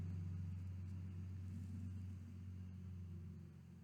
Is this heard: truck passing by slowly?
yes